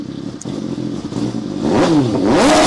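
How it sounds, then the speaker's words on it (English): A 2015 MV Agusta Dragster 800 motorcycle sits idling with a rough, close-up rumble, then its throttle is blipped in quick rising and falling revs, loud and near. "Let's test the throttle if everything is working as it should."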